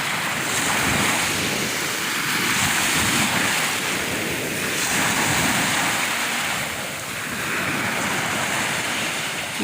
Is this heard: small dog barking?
no